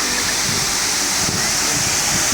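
Kakochang Waterfalls near Kaziranga in Assam roars as a loud, steady broadband rush of falling water, heard close up with no break for the whole stretch.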